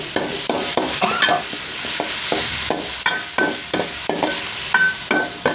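Tomatoes sauté in a hot pan for a rohu fish tomato curry, with a constant sizzle broken by a quick series of sharp scraping stirs from a spatula, close and loud, no talking.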